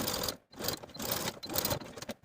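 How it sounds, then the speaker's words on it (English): Sewing machine stitching shut the opening of an elastic casing on a jumpsuit, close, rapid mechanical whirring in bursts separated by brief stops, faint and steady, with no voices. "sew that opening shut following your original stitching line"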